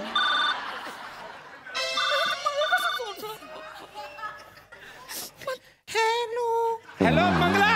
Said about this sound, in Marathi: मॅडम रिंग जाते